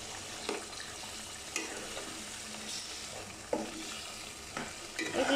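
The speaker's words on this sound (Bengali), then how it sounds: "এগুলো এখন সুন্দর করে আমার কষিয়ে নিতে হবে।" Spices in hot oil sizzle in a pan while a utensil stirs them, with intermittent scraping knocks against the pan over a steady low fry.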